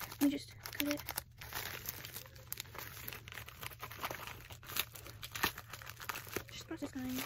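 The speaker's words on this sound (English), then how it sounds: "So I got some scissors and I'm gonna be opening it." Scissors cutting into the plastic packaging of a Baby Alive doll, close-up crinkling and crunching of plastic and cardboard with snips and rustles throughout, a voice briefly heard.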